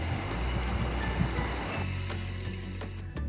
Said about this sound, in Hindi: देखिए, उबाल भी आ गया है।